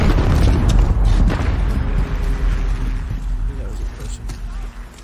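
A grenade blast in the Call of Duty Modern Warfare video game, a deep booming explosion at the start that rumbles and decays over several seconds with scattered battlefield noise behind.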